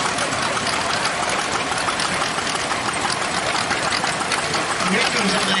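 A 1941 Caterpillar D2 crawler tractor rolls in at an old threshers show, its engine a loud, dense, steady clatter and rumble, close by, with someone talking over it.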